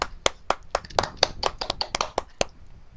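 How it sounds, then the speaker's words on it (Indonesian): A small peer-teaching class applauding Bu Anita, a sparse scatter of a dozen or so distinct hand claps, uneven in rhythm, close by and fairly quiet. "Tepuk tangan dulu buat Bu Anita."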